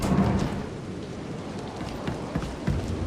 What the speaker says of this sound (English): I put that on the ship so when you're homesick for being on a planet, you can hear what it sounds like to have some rain